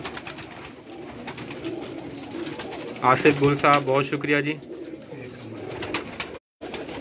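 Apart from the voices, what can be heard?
pigeons cooing on a rooftop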